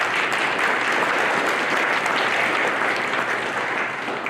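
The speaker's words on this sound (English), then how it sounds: "Let's give them a round of applause, please." College retirement ceremony audience clapping for honored employees, a full, even round of applause that tapers slightly at the end.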